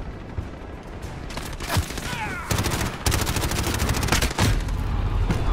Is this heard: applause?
no